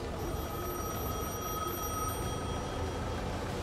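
A telephone rings steadily in the Gas Station Simulator video game, a continuous electronic bell tone with no voices, played at moderate level against a dense background hum.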